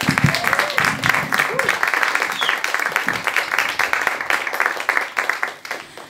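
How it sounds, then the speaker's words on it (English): Audience applause for a band at a conservatory concert, a dense stretch of clapping with a whistle or two, holding steady and moderately loud throughout before easing slightly at the end. "you should just give them a round of applause"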